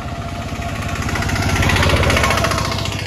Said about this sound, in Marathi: टेम्पो आहे टेम्पो